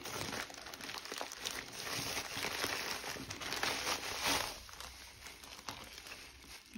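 An AliExpress parcel being opened and unwrapped, with close, steady crinkling and rustling of packaging lasting several seconds, fairly quiet and without speech.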